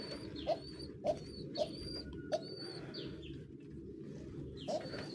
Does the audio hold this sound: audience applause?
no